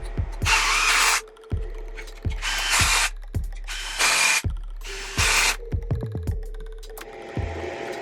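A power driver runs bolts down on a Suzuki RMZ250 engine top end, giving several loud, close bursts of whirring separated by short pauses and sharp clicks.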